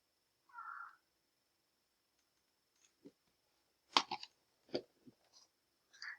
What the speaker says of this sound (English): I hear my cat in the background